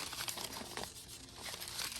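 Paper privacy mailing envelopes being handled, with close crinkling and rustling that comes in uneven bursts over about two seconds, no voices.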